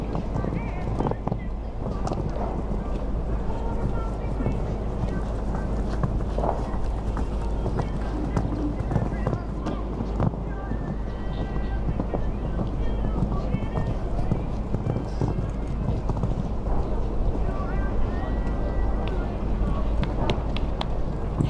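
Horse hooves pounding at a show jumping competition, a continuous run of galloping strides under an announcer's voice, with wind noise and ambient arena sound.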